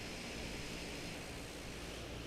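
A De Havilland Canada CL-415 amphibious aircraft in Microsoft Flight Simulator 2024 gives a steady, dense engine roar that holds even and continuous throughout, with no talk over it.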